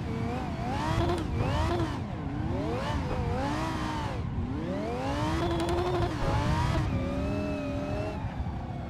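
A drifting car in the Assetto Corsa racing game, engine revving up and down in sweeping surges with tire squeal after a clutch kick, continuous and fairly close throughout.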